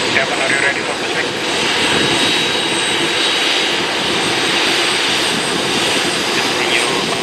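Boeing 747 jumbo jet engines roar at Bali Airport, a loud, continuous broadband rumble and whine that holds steady throughout, near and unbroken, with no voices audible.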